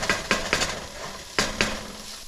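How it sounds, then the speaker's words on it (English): A spatula stirs red beans in a pot, scraping the bottom with a handful of sharp scraping strokes in uneven bursts over a low background sizzle, close and moderately loud. "We just want to keep stirring"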